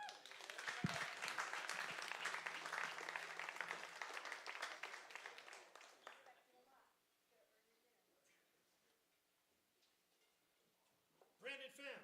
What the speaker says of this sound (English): So I want you to give a warm round of applause for Brandon when he comes up